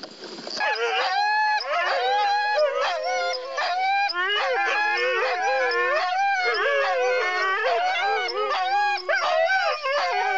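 A pack of sled dogs howls and yelps together, many overlapping wavering cries held loud and continuous throughout, close by.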